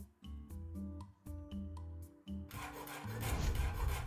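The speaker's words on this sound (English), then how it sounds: "Grab a grater and start grating it finely." Garlic cloves grated finely on a handheld grater, heard as a close, rough rasping scrape in the last second and a half, after a few short musical notes.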